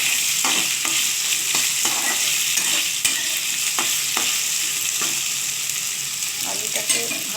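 Potato and bottle gourd pieces fry in oil in a pan with a steady, hissing sizzle, broken by the soft clacks and scrapes of a spatula stirring them at close range.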